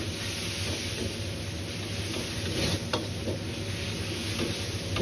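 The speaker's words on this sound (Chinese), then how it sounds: "再倒入控乾水分的金針菇和青豆" Enoki mushrooms and green peas hit hot oil and lard in a wok, giving a steady, close, dense sizzle with faint stirring scrapes throughout and no talk.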